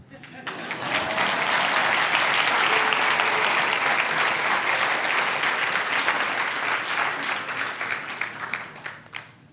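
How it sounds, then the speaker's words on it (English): An audience breaks into sustained applause, building quickly to a steady, dense roar of clapping that holds for several seconds before thinning out near the end. "You can probably clap."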